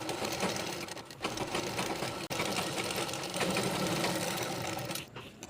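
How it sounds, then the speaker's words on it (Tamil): A sewing machine stitching nightie fabric, running in a fast, steady mechanical whir with needle chatter, close and continuous, pausing briefly once, no talking. "இதுலையெல்லாம் ஒரு தையல் போட்டுடலாம்."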